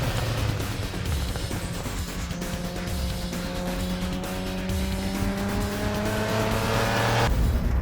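An Alfa Romeo engine revs on a track, a loud steady rising drone with climbing tones that cuts off abruptly near the end, with no voices.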